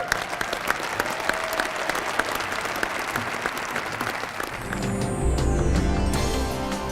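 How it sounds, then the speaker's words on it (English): A crowd applauds the five 2013 Utah Sports Hall of Fame inductees, dense sustained clapping filling the hall for several seconds, with a low rumbling tone rising beneath it near the end. "how about a round of applause for all 5 of our 2013 Hall of Fame inductees?"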